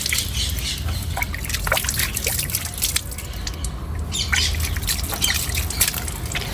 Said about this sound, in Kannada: ಇವಾಗ ನಮ್ಮ ಪತಿರಾಯರು ಮೂಲಂಗಿ ತೊಳಿತಾ ಇದ್ದಾರೆ